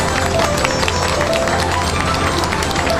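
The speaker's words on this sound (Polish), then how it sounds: "Wielkie brawa dla wszystkich!" Audience applause fills a school event hall with students from the Bolesław Prus high school in Skierniewice: dense, steady clapping that stays at an even level throughout, with some crowd noise mixed in.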